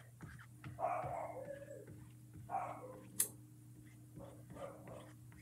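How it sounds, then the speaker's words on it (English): A puppy barking and whining from upstairs in a house, several faint, muffled yips and howls spread irregularly over a low steady indoor hum. "You guys hear my puppy upstairs? He's so upset that I'm not near him right now."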